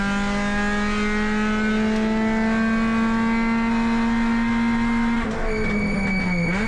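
A touring race car engine at Sydney Motorsport Park howls at high revs through a long steady pull, then shifts and drops pitch near the end, loud and close with no talk over it.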